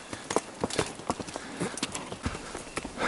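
A small mare being ridden clip-clops along with steady, uneven hoof beats, close and fairly loud over a faint rustling background, with no speech.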